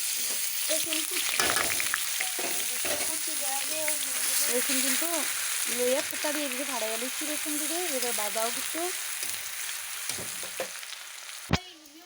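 Garlic sizzles in a fair amount of hot oil as the base for a sour small-fish curry, a steady crackling fry running throughout with a sharp clatter near the end.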